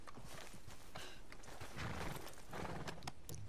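Horse hooves clop in Red Dead Redemption 2, a rapid, irregular beat of hoof strikes over dirt, close and steady throughout with general outdoor noise beneath.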